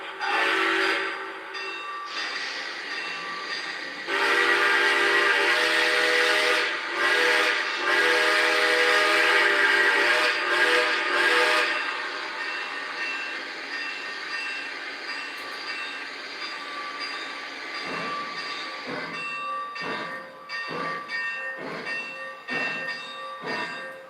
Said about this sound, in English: This engine sounds amazing. This whistle is what like drew me to it.